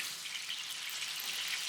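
Pot of pasta water at a hard, loud boil on a home stove, a dense continuous hissing bubble and sizzle with no talking over it.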